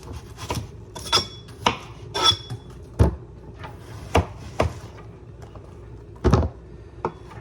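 A knife chops through the ends of a red onion on a cutting board, a series of sharp, close thuds and scrapes at uneven intervals with quiet gaps between.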